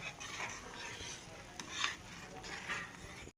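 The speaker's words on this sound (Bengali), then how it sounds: "আর তো নাড়তে হবে নাহলে পরে তলায় লেগে যাবে" Radish payesh being stirred in a pot, soft repeated scraping strokes of a spoon along the bottom with a faint simmer, close and quiet, no talk.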